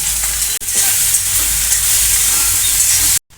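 Onions and brinjal fry in hot oil in a pan with a loud, steady, close sizzle and hiss that breaks briefly once, then cuts off at the end.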